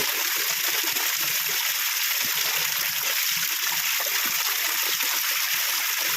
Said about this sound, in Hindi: इन पत्थरों की बैक साइड से ये पानी आता है